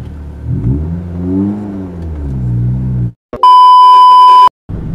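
Honda Jazz engine revving through a newly fitted aftermarket exhaust, a loud, rising and falling drone of several seconds, then cut off by a sustained electronic beep tone before the engine returns.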